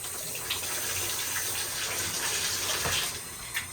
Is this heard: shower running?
yes